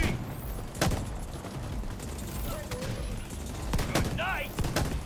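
Gunfire in The Division 2, several sharp shots spaced a second or so apart amid mechanical clicks and reload sounds, with players talking over the action.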